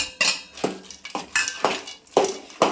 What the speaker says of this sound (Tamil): எல்லாம் நல்லா மிக்ஸ் ஆகிற மாதிரி நல்லா இப்படி கிண்டி விட்டுக்கோங்க